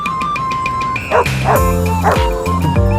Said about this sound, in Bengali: beautiful dog